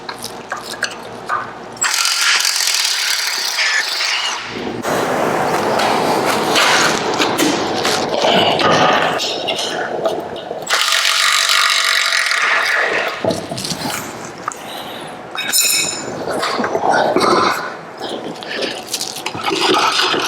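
Steering box bolts on a BMW E34 M5 are worked loose with a ratchet, giving close mechanical clicking and clunking in bursts, with brief quieter pauses and occasional thuds of metal parts.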